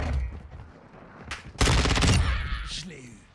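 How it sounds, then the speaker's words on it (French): SPR rifle and other gunfire in a Call of Duty Modern Warfare III match, with a dense loud burst of shots in the middle after quieter rumbling, and a tail of lighter game effects. "Moi, je sais pas, je joue avec le SPR. Attention, tu tires, bordel!"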